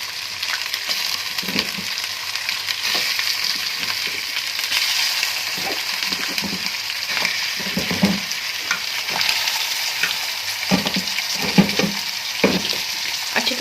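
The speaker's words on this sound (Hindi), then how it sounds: "इसमें अब हम मटन ऐड कर देंगे।" Mutton pieces fry in ginger garlic paste for a Shinwari mutton karahi, giving a continuous loud sizzle broken by repeated scraping and clattering stirs in the pan, with no talking.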